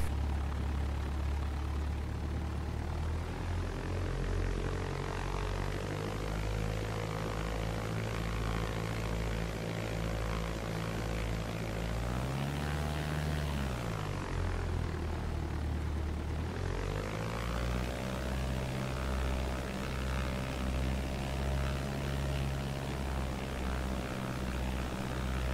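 A propeller bush plane in X-Plane 12 taxis onto a bush camp strip, its engine droning steadily and close, with the pitch rising and falling briefly midway before settling back.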